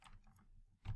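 Typing on a computer keyboard, a quick run of soft close key clicks followed by a louder cluster of strokes, faint and without talk.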